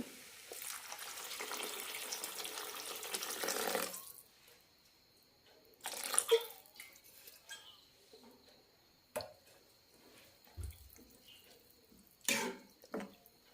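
Water pours steadily into a pot of rava for about four seconds, then stops, leaving quiet with a few scattered clinks and knocks.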